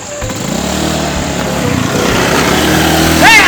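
A motorcycle engine runs close by with a steady, buzzing drone that rises slightly, and a voice briefly sounds near the end.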